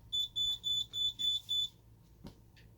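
A Simplex 3001-9001 alarm panel gives six evenly spaced, high electronic beeps while arming, each about a quarter second long, followed by a single short click and faint room noise.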